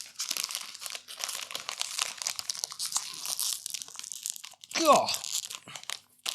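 A plastic crackers packet being torn open, with close crinkling and crunching handling that runs for several seconds, a sharp rip near the end, and brief muttered speech.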